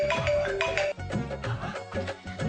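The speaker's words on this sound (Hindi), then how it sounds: "अरे देखो फिर से उसका फोन आ रहा है।" A mobile phone rings indoors with a melodic ringtone, repeating tonal phrases over about two seconds, fairly loud with a little background murmur.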